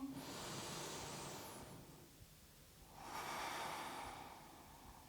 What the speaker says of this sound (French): Deux dernières respirations.